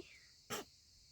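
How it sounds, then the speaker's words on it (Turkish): A child sneezes once, a brief burst that stands out sharply against a quiet, faintly humming background. "Hapşırdın mı? Evet hapşırdım"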